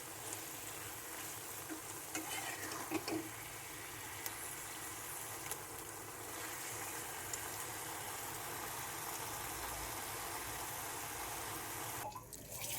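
Red amaranth saag frying in a pan, giving a steady, even sizzle and hiss throughout with no speech over it.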